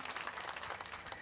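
Audience applause at an Indonesian public housing program event, honoring the regional state-owned enterprise: a dense, steady wash of many hands clapping at moderate volume, continuous and without talk.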